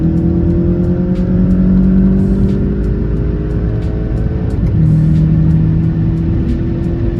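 A 2020 Volkswagen Golf GTI pulling hard in third gear, its engine note rising steadily under a loud cabin rumble, then a brief dip at a gear change before climbing again.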